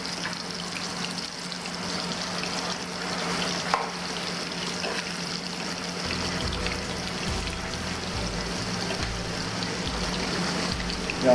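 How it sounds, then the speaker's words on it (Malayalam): Pieces of dried shark fish fry in hot oil for a pickle, giving a steady, close crackling sizzle that holds evenly all the way through, with a low bubbling undertone growing in the second half. "നമ്മുടെ എണ്ണ ചൂടായിട്ടുണ്ട്. അപ്പോൾ നമുക്ക് മീൻ ഇതിലേക്ക് ഇടാം."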